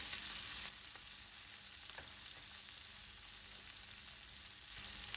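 Green chilies fry in hot oil in a pan for a yoghurt curry, a steady close sizzle and crackle with a brief louder flare at the start and end.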